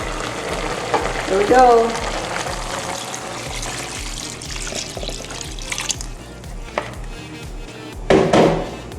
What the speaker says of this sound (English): I'm gonna add the coconut milk.